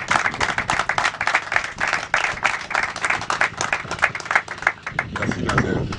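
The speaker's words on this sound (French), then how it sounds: "Sous vos applaudissements" Audience applause at an evening talk, a small crowd clapping in rapid, uneven bursts throughout, fairly close and lively, with a brief lull near the end before the clapping picks up again.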